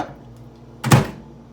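A microwave oven door swings shut with a single dull thunk, loud and close, after a quiet kitchen pause, while ramen noodles are prepared.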